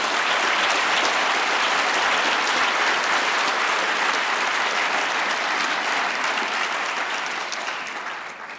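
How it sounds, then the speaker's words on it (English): Loud, sustained applause from a large audience at a state address in Queens, a dense unbroken wash of clapping that holds steady before fading near the end. "Let's give them another round of applause."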